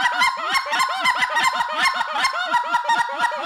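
A caller blows an advanced series on a goose call imitating lesser geese, rapid rhythmic honks and clucks tumbling over one another in a loud, close, continuous run with no talking.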